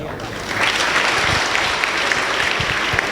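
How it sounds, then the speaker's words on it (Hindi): Applause from a crowd at a school event at St. Anthony's Convent School, Karna, Palwal, starting softly and swelling after half a second into steady, dense clapping that continues to the end, with a few louder claps close by. "शाबाश, आप भूले नहीं हो, तालियां बजाओ।"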